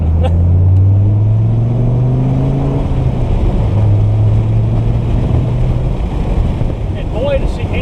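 A 2002 Dodge Viper RT10 Roadster cruising on the road gives a low, steady engine drone under heavy wind rush, with a slight dip in pitch midway as the car shifts.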